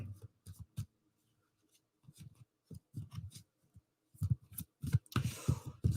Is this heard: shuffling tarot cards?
yes